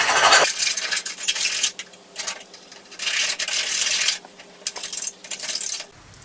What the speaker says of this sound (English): And quickly we'll just file down that hole just to get rid of any